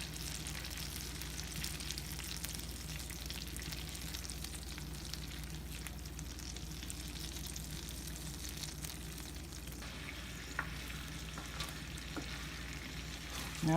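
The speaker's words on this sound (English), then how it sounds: "Now that my butter is searing pretty good" Butter searing over medium heat in a pan, ready for garlic shrimp, sizzles with a steady close crackle. A couple of faint clicks come near the end.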